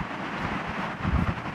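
Wind buffets an outdoor microphone on a very windy day, a low, muffled rumbling roar with gusty thumps that swell louder near the end of the short stretch, with no talking.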